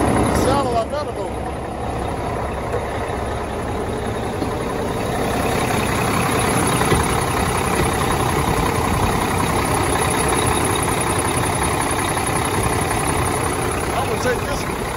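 Cummins diesel truck engine idling at a truck auction inspection, a steady, rumbling drone heard close throughout, with people talking over it.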